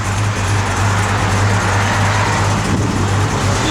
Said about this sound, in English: Yep, blower motor works